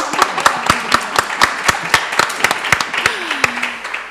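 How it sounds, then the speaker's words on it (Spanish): Sparse applause at a literary event at Mexico's Biblioteca Nacional: distinct, sharp hand claps from a small audience in an irregular rhythm, close and fairly loud, with faint voices underneath. "Un aplauso para Sofía"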